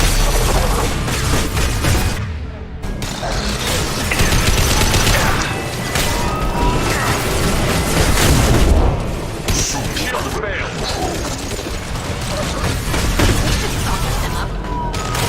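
Heavy gunfire and booming explosions from the video game Mass Effect 2, a loud, dense, continuous barrage of bursts and blasts with game voices talking over it.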